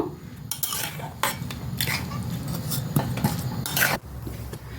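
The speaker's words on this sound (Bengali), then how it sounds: "এবার আমি গ্যাসের ফ্লেমে রেখে এইভাবে অনবরতভাবে নাড়িয়ে যাব নারকেলের পুরের জন্য" A spoon works steadily through a coconut filling with sugarcane jaggery and milk in a pan over a gas flame, with repeated scrapes and light clinks against the metal, up close and without speech.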